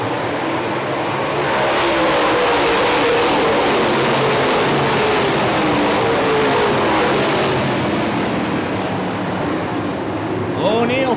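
UMP late model race cars at Hartford Speedway roar past at the green flag, a loud sustained engine drone with rising and falling pitch sweeps as the pack passes, crowd and track noise mixed in.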